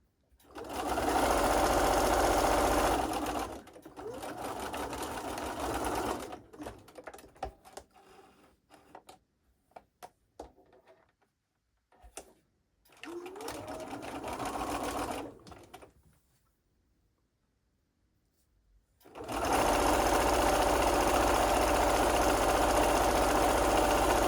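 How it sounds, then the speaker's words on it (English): A sewing machine runs loud and close in long stitching bursts along a seam, reversing briefly to backstitch at the ends, with quieter pauses and faint handling between runs. "So I'm just sewing the regular seam allowance, so back stitching at each end."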